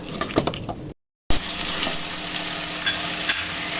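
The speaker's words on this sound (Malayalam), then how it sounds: "നല്ലോണം ഒന്ന് ആ തക്കാളി ഒന്ന് ഉടയണ വരെ ഒന്ന് നല്ലോണം വഴറ്റിയെടുക്കാം" Chopped tomato with salt sautéing in a hot pan while being stirred until it breaks down. A loud, close, steady sizzle with stirring scrapes continues except for a brief silent cut near the start.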